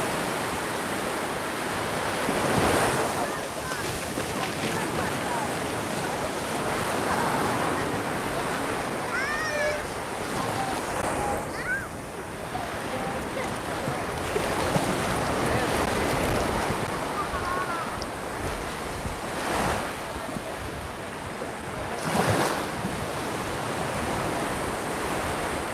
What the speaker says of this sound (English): And actually, I am now in the sea.